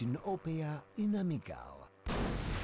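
A voice talks excitedly, then a Super TNT blast in the PS1 game Hogs of War erupts as a sudden, loud, broadband explosion that rumbles on to the end.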